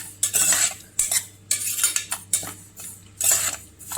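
Dry semolina (rava) is roasted in a pan with a metal spoon, making repeated scraping and clinking strokes in uneven bursts. The strokes are close and fairly crisp, with no talk.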